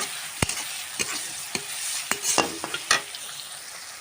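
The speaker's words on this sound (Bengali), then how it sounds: "এগুলো আমি ভেজে নেবো হালকা একটা ব্রাউন কালার আসা পর্যন্ত।" Chopped onion frying in hot oil, a soft continuous sizzle punctuated by sharp spatula scrapes and taps against the pan every half second or so, close and fairly quiet, no talking.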